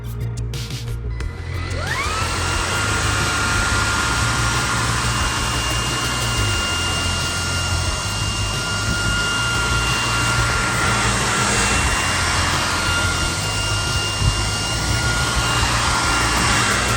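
A Redroad cordless stick vacuum cleaner with a pet hair and dust mite attachment runs steadily, a loud close whine that rises in pitch as it spins up and then holds constant, with low music underneath.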